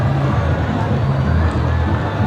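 A large crowd at a T20 cricket final in a stadium sends up a continuous dense roar of cheering and babble, loud and steady, with a commentator speaking over it.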